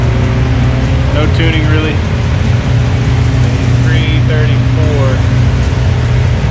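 An LS-swapped BMW accelerates hard in third gear with a loud, steady, dense engine and road roar throughout, as heard from inside the car, while someone speaks briefly over it.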